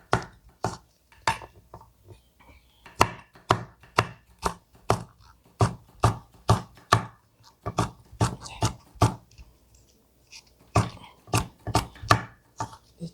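Chili peppers for a young radish kimchi garnish are cut very thin on the diagonal with a knife on a board, making a long run of crisp, rapid taps close by, with a brief pause near the end.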